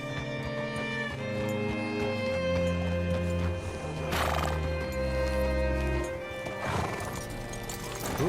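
A horse in the video game Red Dead Redemption 2 gives a loud, close neigh over steady clip-clopping hooves and low musical tones, with a second whinny shortly after the first.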